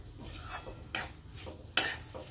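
Peanut chutney seasoned with chili and salt is stir-fried in a pan: a soft, close sizzle under spatula scrapes, with three distinct scraping strokes, the last one loudest.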